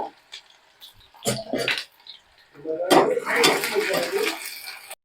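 Onion goes into a cumin tempering in an iron kadhai: metal clinks and scraping of utensils, then a broad sizzling hiss as it hits the hot oil.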